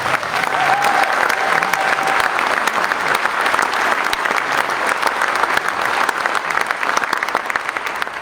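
Audience at a community meeting about the Flat Fire applauding, a steady, dense wash of clapping that continues evenly for about eight seconds.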